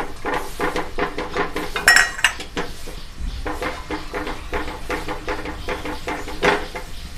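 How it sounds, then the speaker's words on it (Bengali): Metal spoon scraping and clinking against a pan while doi potol, a curry of pointed gourd in whisked sour curd with cashew paste, is stirred; repeated close, irregular scrapes and taps continue throughout, with no voices. "ভালোভাবে নাড়াচাড়া করব, নয়তো দই ফেটে যাবে।"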